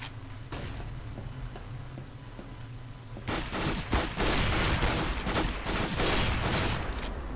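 CS:GO gunfire: bursts of rapid shots crackle continuously, with a steady low rumble early on giving way to denser, louder volleys after a few seconds, no speech.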